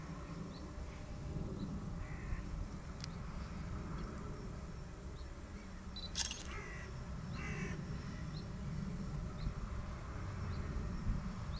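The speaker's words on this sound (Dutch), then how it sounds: "Kraaien." Crows caw a few times in the distance at Kinderdijk, faint single calls scattered over a steady buzzing hum that sounds like a hovering drone or insects, with no talking.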